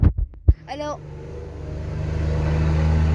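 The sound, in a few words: passing cars and trucks outdoors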